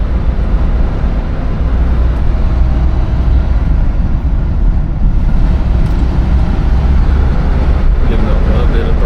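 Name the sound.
1966 Cadillac Eldorado engine running while driving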